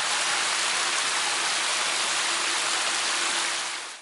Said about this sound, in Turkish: Pek çok ilde etkili olan sağanak yağış hayatı felç etti.